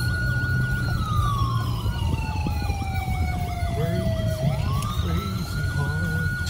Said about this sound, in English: Turn your siren off